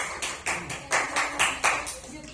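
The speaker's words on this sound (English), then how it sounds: "Claps hand for your friends." Classroom students clap their hands in a rhythmic series of about eight sharp claps, moderately loud and close, with some background voices underneath.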